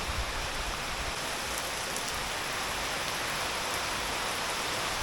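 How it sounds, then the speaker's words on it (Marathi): Heavy rain pours down in a dense, steady roar of drops with no pauses, loud and continuous from start to finish. "धो धो पाऊस पडतोय"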